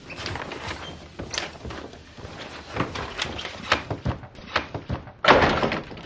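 A door opens and closes several times in a Turkish school setting, giving scattered thuds and knocks of varying loudness, with one heavier slam near the end and faint movement between them.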